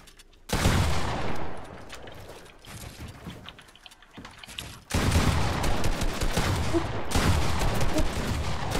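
Rapid bursts of blank-round gunfire in a video game, loud and dense, come in two long stretches broken by a quieter gap with softer mechanical clicks, then resume for the rest of the clip.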